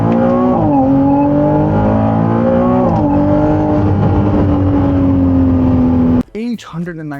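A Ferrari 296 GTB hybrid supercar engine roars loudly and close, holding a strong, rising and dipping drone as it shifts through gears for about six seconds before cutting off abruptly, after which a voice speaks.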